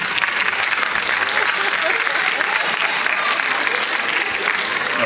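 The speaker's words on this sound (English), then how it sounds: "Don't applaud for that." An auditorium audience at an author's talk applauds loudly and continuously for several seconds, a dense wash of many hands clapping.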